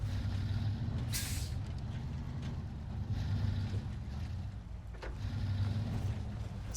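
Truck in the SnowRunner video game maneuvering in a turn, with a low, steady engine rumble, brief hissing bursts like air brakes, and windy noise, moderately loud, with no talking.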